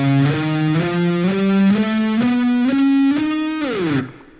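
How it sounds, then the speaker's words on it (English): A distorted electric guitar plays a steady ascending A whole tone scale on one string, each note picked separately, ending with a sliding drop as it fades. "Here's how the A whole tone scale looks like when I just play it on one string."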